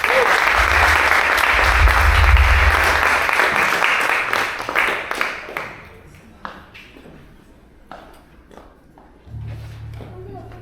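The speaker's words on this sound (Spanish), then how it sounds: "Den un aplauso a Dios." A church congregation gives a long, dense round of applause that fills the room, then thins to scattered claps and murmuring voices with a brief low hum near the end.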